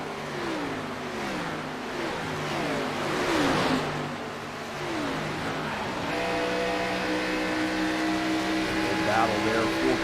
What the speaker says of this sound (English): Good battle there, 4 cars battling around each other.